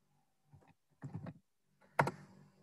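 Quiet keyboard typing during a search in ArcGIS Pro, a few soft clustered key clicks ending in one sharper, louder keystroke like hitting enter.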